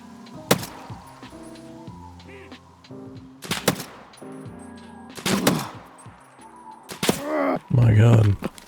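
Suppressed gunfire in Escape from Tarkov comes as several sharp, muffled shots spread across the clip, mixed with other in-game thumps and noises.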